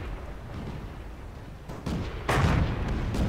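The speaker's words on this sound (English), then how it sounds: "Everybody's shooting at me." Tank cannon fire in the World of Tanks video game, a steady rumble of battle noise building to heavier booming blasts near the end, with no talking.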